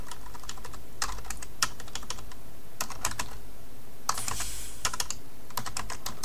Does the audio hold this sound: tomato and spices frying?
no